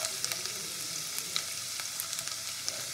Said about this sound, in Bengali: তেলের মধ্যে প্রথমে আমি দেব রসুন কুচি